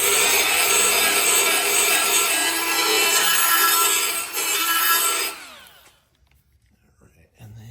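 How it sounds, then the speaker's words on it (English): A Milwaukee burr grinder works on a Nissan Hardbody mini truck during a bagging job, a loud continuous high-pitched whine that runs steadily for about five seconds before spinning down to near silence. "this Milwaukee burr tool, or whatever you want to call it, it's a I guess a grinder, but we use it with the all of the burrs"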